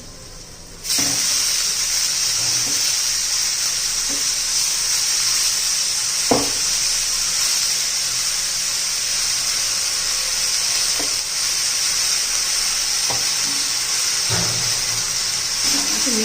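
Fenugreek greens frying with onion in a pan give a loud, steady close-up sizzle that starts abruptly and holds throughout, with occasional soft clacks of stirring.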